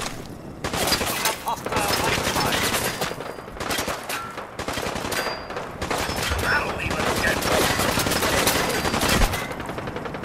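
A heavy firefight in the video game Fallout 4: dense, continuous bursts of rapid gunfire with overlapping shots, loud and sustained, with voices faintly mixed underneath.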